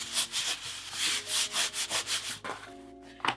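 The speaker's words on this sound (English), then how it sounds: "kind of rub it all and smooth it down and make sure it's adhering" Felt fabric is rubbed and smoothed by hand onto a glued drawer bottom, giving a close, quiet series of rhythmic scraping strokes, about a dozen in quick succession, with a soft knock at the end.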